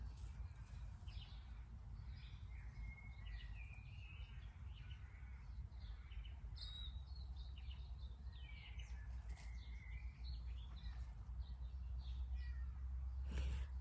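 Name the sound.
cat meowing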